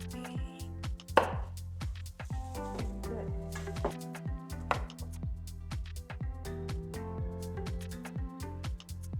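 Mixed vegetables being chopped with a knife on a board, a long run of quick, fairly regular thuds close by, some clusters faster than others, at moderate volume without speech.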